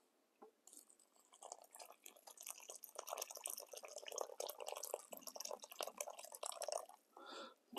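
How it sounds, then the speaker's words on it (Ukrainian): Water trickles and splashes into the pouch of an Estonian Army ration meal of meat with potatoes, a steady irregular pouring with small drips, fairly close and quiet. "Заливаємо сюди воду."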